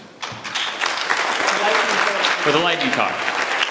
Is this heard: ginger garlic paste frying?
no